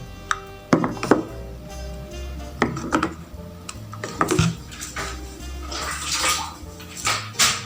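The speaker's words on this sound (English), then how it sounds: "I'm still adding water. I'm actually adding 1 liter of water." Water splashes and trickles into a container, one liter added to chemicals for homemade hair conditioner, with clinks and knocks of vessels handled between pours, close by and moderately loud.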